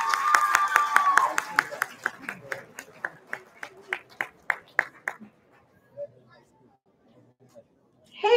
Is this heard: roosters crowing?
no